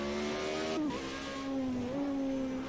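A race car engine in Project Cars 2 holds a sustained, close, droning note under light throttle, dipping briefly and shifting pitch as the revs change.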